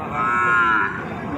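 A single loud, close moo from an Indian or Sahiwal bull calf, about a second long, alone with no talk.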